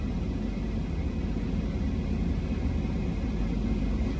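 Constant low rumble of a dumpster truck creeping forward while winching a roll-off dumpster onto a trailer, a steady broadband engine and drivetrain drone with no distinct events.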